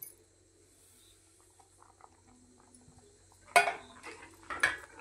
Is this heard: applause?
no